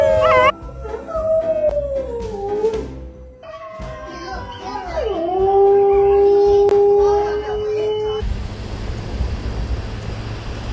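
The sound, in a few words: dogs howling in reaction to a video of dingoes howling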